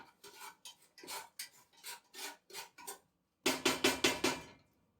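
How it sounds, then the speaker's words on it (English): A spatula stirs vegetables sautéing in a pot for chicken soup, making a run of short, rhythmic scraping strokes. After a brief pause comes a louder, quicker burst of scrapes. "So I'm just gonna take my spatula and stir everything together."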